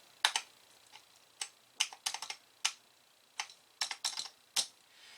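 Keys on a refurbished Atari 130XE computer keyboard are pressed one after another, giving sharp, close plastic clicks in irregular single presses and quick short runs over a quiet background.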